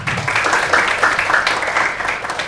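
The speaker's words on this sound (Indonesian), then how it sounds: "Iya, luar biasa. Tepuk tangan ya." Steady applause from a classroom of students, continuous and fairly loud for the whole stretch with no break.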